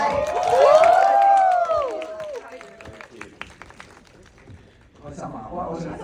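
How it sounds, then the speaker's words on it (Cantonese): A crowd at a film thank-you screening greets special guests with a rising whooping cheer, then scattered hand claps, with people talking and calling out throughout. "特別嘉賓啊，俾掌聲佢哋好唔好？"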